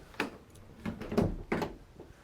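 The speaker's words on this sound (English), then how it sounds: "Twin solid rear doors" Several solid thunks in quick succession as the twin solid rear doors of a 2018 Ford Transit Custom van are swung and latched shut, close by.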